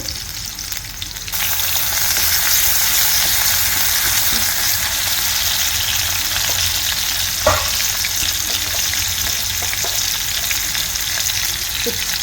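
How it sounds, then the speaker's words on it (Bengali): Onions frying in oil in a wok, quiet at first, then a loud steady sizzle and crackle that continues throughout, with an occasional stir or clink and no talking. "আমি পটলের ছিলকা ভর্তার জন্য এখানে একটা কড়াইয়ে তেল দিয়ে দিয়েছি, পেঁয়াজ দিয়েছি পরিমাণ মতো"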